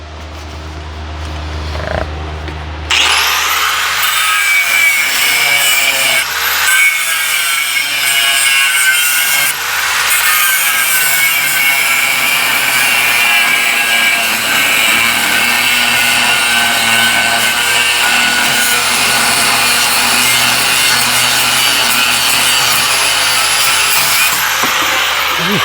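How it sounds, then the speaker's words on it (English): A power grinder cuts out a welded bolt head in a Corvair FC motor bay. After a brief quiet start it runs loud and steady for over twenty seconds, a harsh continuous abrasive whine up close. "I'm gonna at least take the bolt off and grind it out"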